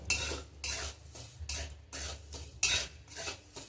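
Semolina (suji) dry-roasting in a pan while a spoon scrapes it round in steady strokes about every half second, each a loud gritty rasp with short pauses between.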